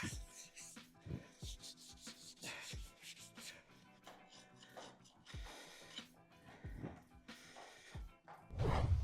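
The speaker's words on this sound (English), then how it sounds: "Especially when you've got an absolutely knackered clenching rasp like this one. So a quick rub round with that." A worn clenching rasp is rubbed around a horse's hoof and aluminium race plate in quick, irregular scraping strokes, soft and close, with brief pauses between passes and a heavier scrape at the end.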